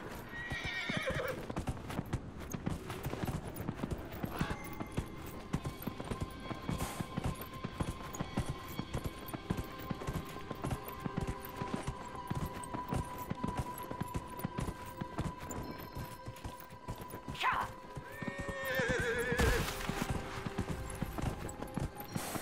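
In the video game Dragon Age: Inquisition, hooves clip-clop steadily throughout, with a horse neighing near the start and again near the end, plus a sustained tonal hum in the background.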